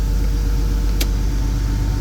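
Engine-swapped car idling steadily with a raspy, throbbing exhaust, close and loud throughout, with one brief sharp crackle partway through.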